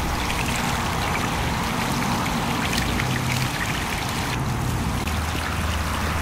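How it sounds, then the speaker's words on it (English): Rainwater pouring and trickling steadily into a drainage system after a rain-stopping device is installed, a continuous close wash of running water with no pauses and no voices. "water drains to the intended drainage system"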